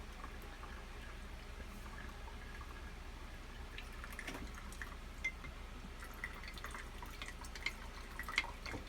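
Coffee for coffee kombucha dripping slowly through a filter: faint, sparse drips over a steady low background hiss, close but quiet.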